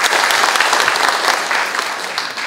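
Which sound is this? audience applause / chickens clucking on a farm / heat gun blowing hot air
audience applause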